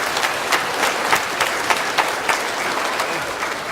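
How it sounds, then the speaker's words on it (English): Crowd applause after a round of clapping is called for on a 2008 BBC One Spotlight segment, a steady wash of many hands with sharper individual claps standing out, fairly close and continuous throughout. "It's a big clap for Will and Lauren."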